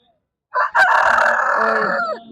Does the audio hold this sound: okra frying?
no